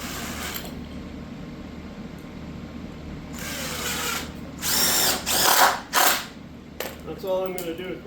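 A power drill driving a single screw into a small wood block in a garage, heard as a few short whirring bursts of rising loudness with brief pauses between them, close by and without talk.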